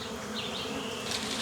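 Dense, loud buzzing of a swarm of bees pouring out of a hive in a tree trunk after smoke is blown in, a continuous close drone with rising and falling whine.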